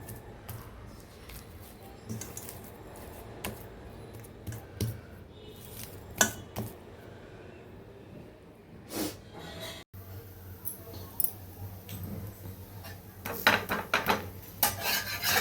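Ragi flour dough kneaded firmly by hand with small additions of water, soft rubbing and pressing sounds with occasional knocks against a bowl, close and fairly quiet, no talking.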